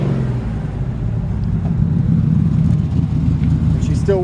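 A 1957 Chevrolet 3100 truck's engine and exhaust rumble steadily at a close, low idle while warming up, with a brief voice near the end.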